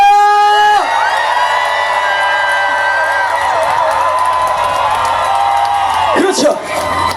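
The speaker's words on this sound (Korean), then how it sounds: "다시 한번 박수와 함성!" A concert crowd at an evening outdoor show in Pyeongtaek cheers and applauds on cue, a dense sustained roar with whoops and yells that runs loud and steady for several seconds before briefly swelling near the end.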